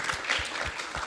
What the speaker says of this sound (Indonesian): Jadi tepuk tangan untuk tim saya juga.